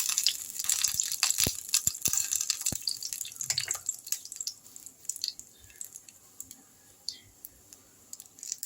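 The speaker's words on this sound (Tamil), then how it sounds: "கடுகு பொறிட்டோம்" Mustard seeds splutter and pop in hot oil in a pan while black gram chutney is being tempered, a rapid scatter of sharp crackles that is dense at first and then thins out to sporadic pops.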